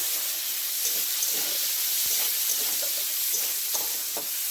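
Onions and green chilies frying in a pan, giving a steady, close broadband sizzle and hiss that runs unbroken, with small crackles and pops scattered through it.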